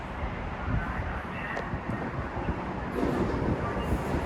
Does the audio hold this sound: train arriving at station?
yes